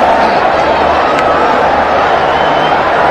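Packed cricket stadium crowd at a PSL match between Peshawar Zalmi and Quetta Gladiators, a loud, constant roar of applause and cheering, continuous and enveloping.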